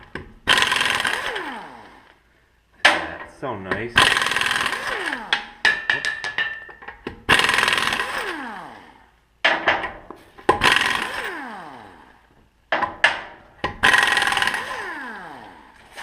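An air impact wrench running on only 100 PSI removes a wheel from a 2004 Acura TL in repeated loud hammering bursts of a second or two, separated by short pauses, close by, with a brief spoken remark.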